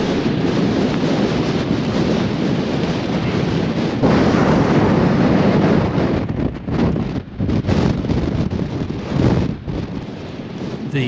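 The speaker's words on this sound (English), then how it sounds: "As we're on the ridge towards the summit, you can get a real sense of the power of the wind." Strong wind roars across the exposed summit ridge of Skiddaw, a loud continuous buffeting rush that batters the microphone and surges and dips in gusts, with no voices.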